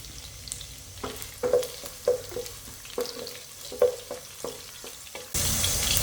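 Ginger and green chillies fry for chilli chicken, giving a soft steady sizzle broken by several sharp spatters and stirring knocks. A louder hiss of oil takes over near the end. No voices are heard.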